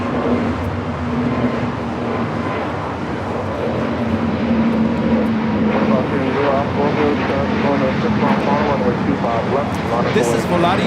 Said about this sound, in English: This is Volati 7849 taking off to Oaxaca on the A320neo